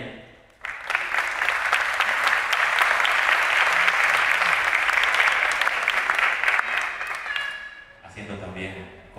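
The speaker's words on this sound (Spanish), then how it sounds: "Les pido un aplauso fuerte para ella." Loud audience applause at a café music night, sustained clapping from a crowd for a singer that fades toward the end as a voice begins speaking.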